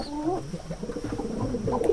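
Soft, low cooing from a pigeon sitting on its eggs, a continuous murmuring close by over faint background noise.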